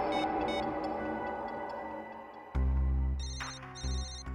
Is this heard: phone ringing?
yes